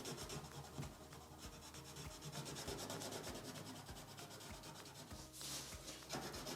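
Drawing or coloring tool strokes on paper, rhythmic scratchy rubbing sounds repeating in quick back-and-forth passes, faint and close, with no talking.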